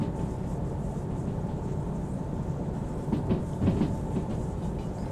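Train rolling along rails in the Derail Valley simulator, a steady broadband rumble with faint rhythmic clatter building slightly near the end, continuous and fairly close with no voices.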